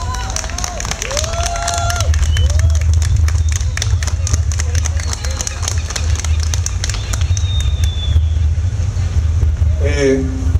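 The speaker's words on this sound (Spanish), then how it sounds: "¡Fuerte el aplauso para ellos!" Audience applause for a rock band at an outdoor plaza in Talcahuano, Chile: a dense, steady patter of clapping mixed with crowd noise and a low rumble, with a few voices talking and calling out.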